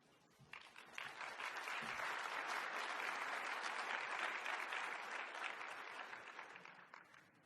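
An audience applauds to welcome Kristen McDonald to the stage for her conference talk, a dense, steady wash of clapping from many hands that swells quickly, holds for several seconds, then tapers off.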